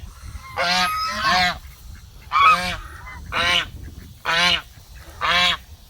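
A young duck gives loud, nasal honking calls, about six in a row with short pauses between them, close by and with no talking.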